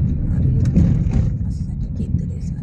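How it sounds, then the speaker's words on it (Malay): Car traffic on a Kuala Lumpur road, a steady low engine and tyre rumble heard from inside a moving vehicle, with voices talking over it. "masih ada kereta dari sana tengok."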